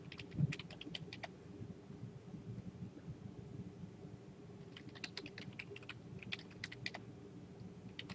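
Answers are typed on a computer keyboard in Quizlet: two quiet bursts of rapid key clicks, near and distinct, separated by a pause of low room hum, with no voices.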